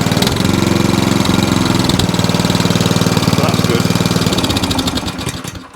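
A Qualcast Suffolk Punch 14SK cylinder lawn mower engine runs steadily at close range, a loud continuous idle-like drone that holds for most of the clip before easing slightly at the end, with the cylinder and roller drive not turning.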